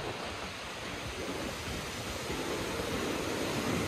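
Waterfall pouring below a huge cliff, heard from a viewing platform: a steady, dense roar of rushing water that holds constant and slightly swells toward the end, with no voices.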